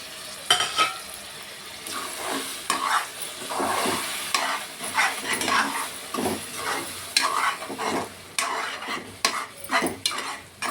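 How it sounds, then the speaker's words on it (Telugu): Tomato paste fries with onion pieces in a pan, a soft continuous sizzle broken by repeated scraping stirs of a utensil against the pan. "ఇక ఇప్పుడు టమాటా పేస్ట్ వేసుకుంటున్నాను."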